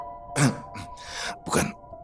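A few harsh, breathy coughs in quick bursts, close and fairly loud, with short pauses between them.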